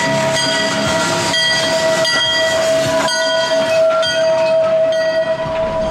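A train rumbles past loudly and steadily near Cedar Point amusement park, a sustained horn tone ringing over the continuous roar of the wagons.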